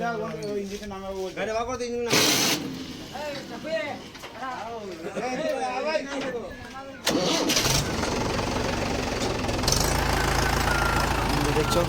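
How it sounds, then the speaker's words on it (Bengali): People talk over a low rumble, then a truck engine kicks in and runs loudly and steadily, a close, broadband roar that drowns out the voices. "গাড়ি বেরিয়ে যাচ্ছে"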